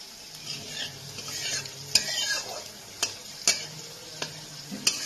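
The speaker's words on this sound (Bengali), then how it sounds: "এবার আমি এর মধ্যে গোটা জিরে আর তেজপাতা ফোড়ন দিয়ে দিচ্ছি" Whole cumin seeds and bay leaves crackle in hot oil with a soft steady sizzle, broken by a few sharp spoon clinks and stirring taps against the pan.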